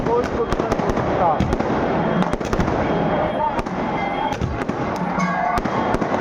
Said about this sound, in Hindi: पूरा पटाखे वटाखे